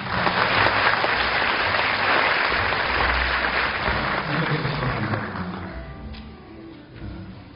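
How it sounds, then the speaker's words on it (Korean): Audience at a university entrance ceremony gives warm applause welcoming invited outside professors, a broad dense clapping that fills most of the clip and gradually thins toward the end, heard alone without talk. "입학생 여러분들 뜨거운 환영의 박수 부탁드립니다."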